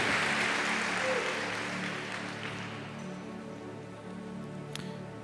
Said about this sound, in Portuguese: Então aplauda o nome de Jesus.